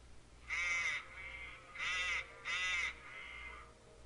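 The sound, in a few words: crows cawing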